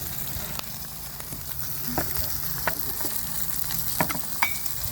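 A beef steak sizzles on a hot stone in a restaurant: a steady crackling hiss, close and moderately loud, broken by occasional sharper pops and the faint clink of cutlery.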